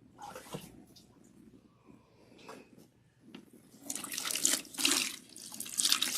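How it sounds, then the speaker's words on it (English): Water from a tap runs while a protein treatment is rinsed out of natural hair, with splashing that grows louder and fuller in the second half; no talk is heard. "It's just rinsing out the protein treatment."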